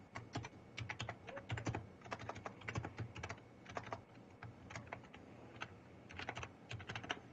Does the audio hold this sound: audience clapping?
no